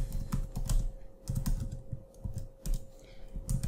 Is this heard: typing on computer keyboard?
yes